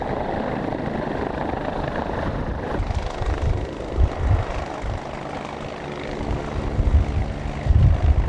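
Helicopter flying over a bulk carrier during a search-and-rescue winch exercise off Port Kembla, a steady broadband rotor and engine roar that stays loud throughout with pulsing low-end thumps, heard alone with no talk.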